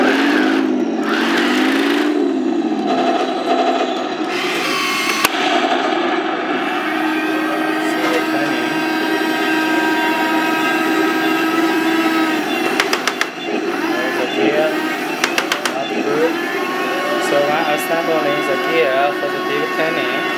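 A Henglong RC tank switches on and starts up, its small electric motor and gears whirring steadily and fairly close for the whole stretch, with a few clicks and shifts in pitch along the way.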